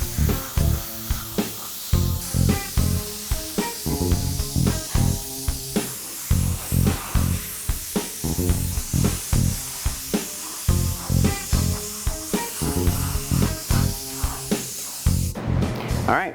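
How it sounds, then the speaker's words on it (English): POR-15 High Build Primer sprayed onto automotive horizontal surfaces: loud, close, rhythmic bursts of spray-gun hiss, each lasting under a second with short gaps, repeating steadily throughout. "Now we're going to do 2 more coats to make sure we get everything on the horizontal surfaces"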